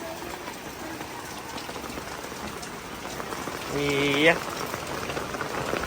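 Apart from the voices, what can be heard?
rain falling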